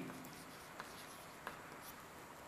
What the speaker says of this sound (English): So let me write it for you here